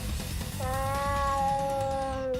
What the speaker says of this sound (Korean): 고양이 울음소리.